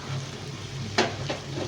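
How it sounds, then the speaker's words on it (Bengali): Spice masala frying in a pan, a steady soft sizzle running under the whole moment with one sharp crackling burst midway and a smaller flare shortly after. "মশলাটাকে কষিয়ে নিলাম।"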